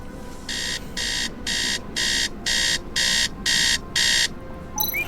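An alarm clock beeps to wake someone, sounding eight evenly spaced, shrill beeps in a steady rhythm over a low background hum, followed by a brief faint rustle.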